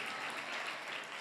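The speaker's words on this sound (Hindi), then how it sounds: "ताली बज सकती है?" A congregation at a pastor's church service claps together in a brief, full burst of many hands, even and sustained, with no one speaking over it.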